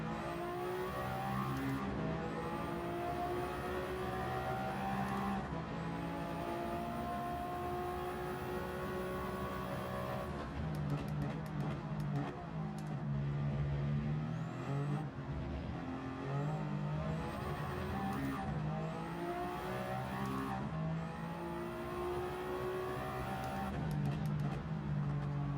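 LMGT3 race cars at the 24 Hours of Le Mans in a racing game, engines droning steadily with repeated rising revs and downshifts as cars brake and accelerate, a continuous moderate roar with no talk.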